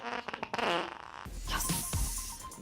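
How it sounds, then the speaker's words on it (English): A comedic fart sound effect played on a late-night TV comedy show, a loud burst followed by a low sustained rumble of about a second and a half. "do we have some other fart sound options?"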